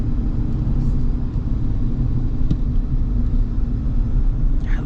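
A 2026 GMC Sierra 1500 AT4X pickup's engine rumbles low and steady under acceleration, a deep continuous drone heard from inside the cabin with no talking.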